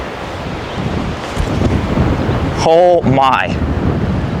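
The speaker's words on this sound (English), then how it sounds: "Wow. A lot of headwind." Strong headwind gusting across a disc golf course in New Zealand, a loud continuous rush buffeting the microphone throughout, with a person briefly exclaiming near the end.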